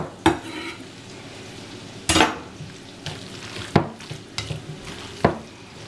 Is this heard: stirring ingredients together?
yes